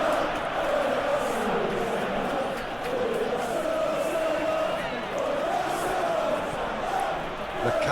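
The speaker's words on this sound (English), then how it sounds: "the crowd aren't happy" Stadium crowd ambience from a PES 21 simulated Premier League match between Arsenal and Liverpool, a steady, dense roar of many voices with a grumbling, discontented tone that holds constant throughout.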